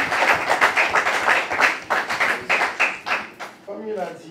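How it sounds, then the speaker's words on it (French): An audience at a Rotary Club evening in Benin claps for a speaker, a burst of rapid applause that thins into a few scattered claps and fades as a voice begins. "Si vous applaudissez, s'il vous plaît."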